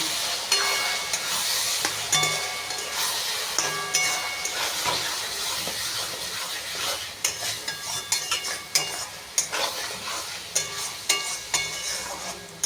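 Chilli powder and other ground spices are sautéed in hot oil in a pan for an egg and fat curry, a hissing sizzle broken by repeated scraping strokes of a spoon that grow sharper and more frequent.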